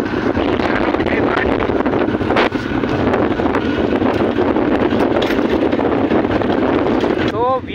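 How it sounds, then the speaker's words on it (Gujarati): Strong storm wind buffets the microphone on a farm, a loud, steady roar with gusting rumble filling the whole clip, and a brief whooshing sweep near the end. "અને પવન અતિ પ્રમાણમાં એ જો"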